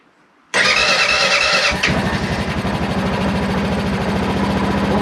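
A small engine, choked fully with the key on, cranks briefly and catches after about half a second of quiet, roaring loudly and then settling into a steady, rapid-firing idle close by.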